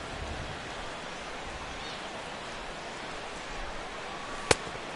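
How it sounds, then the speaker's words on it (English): Steady rain falls over a baseball stadium at game time, a constant soft hiss that stays even throughout, broken by one sharp crack near the end. "The rain, as we've mentioned, coming down fairly steadily here at game time."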